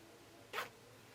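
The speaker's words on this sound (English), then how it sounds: "let's go ahead and zipper up" A newly sewn zipper is zipped up once, a single quick, close zip that stands out briefly against a faint, quiet background.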